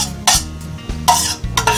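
Shallots and garlic go into hot olive oil in a pan for a mozzarella meatloaf; stirring scrapes and clinks come in three loud bursts over a soft steady sizzle, with no talking.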